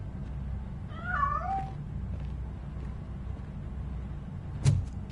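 A cat in the video game RoboCop Rogue City gives one short, wavering meow at middle distance over a low ambient hum, and a sharp knock follows a few seconds later.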